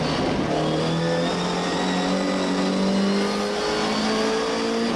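MGB historic race car accelerating hard around Snetterton circuit, a loud, steady in-car engine drone with rising pitch through the gears, continuous for the whole stretch with no talking.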